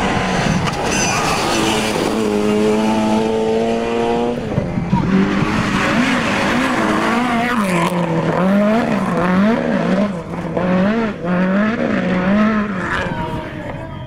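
Rally cars at the Rallye des Hautes Fagnes, with loud revving engines that climb through the gears, tire squeal and skidding, then more aggressive engine pitch swings as a car races close by.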